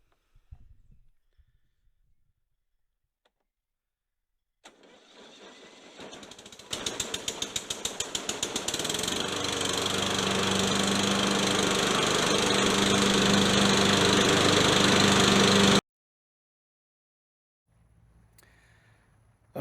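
Lawn mower engine tries to start with a brief sputter, then catches at about 7 seconds and runs loud and steady, rising in pitch, before cutting off abruptly; quiet handling noises come before and after.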